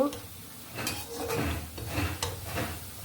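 Fried palm-fruit fritters being lifted out of a pan of oil. Quiet scrapes and clinks of a utensil against the pan come over a faint background sizzle.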